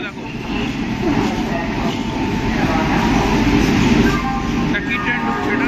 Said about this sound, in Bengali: এখানে একটা ট্রেন ঢুকছে দেখো